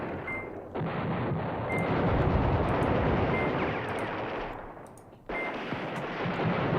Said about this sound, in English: Keep on dropping the artillery.